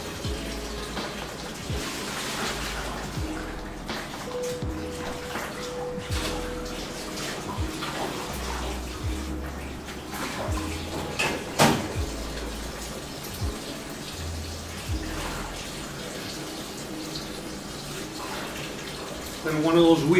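Running water from a kitchen tap splashes steadily over tamale husks being rinsed for Sinaloa-style tamales, a continuous close gush with occasional clatter throughout.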